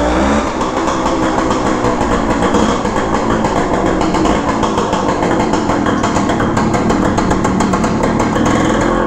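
A 1974 Suzuki TS185 motorcycle engine runs loud and close with a dense, steady buzzing drone and no talking.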